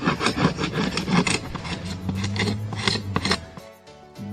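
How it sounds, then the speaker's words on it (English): Steady rasping strokes of a scraper on old wood beneath a house soffit and fascia during renovation, close and rhythmic, slowing near the end with a low hum in the background. "Back to scraping I went."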